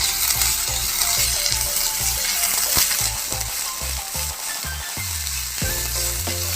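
Crushed garlic, green chili, ginger and curry leaves fry in hot oil in a pan while being stirred, giving a steady close sizzle broken by scraping and clicks of the spoon, with no voices.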